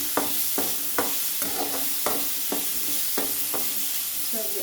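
Potato pieces frying in oil in a pan for potato brinjal sabzi, a continuous sizzle with regular scraping strokes of a spatula roughly every half second, close and alone.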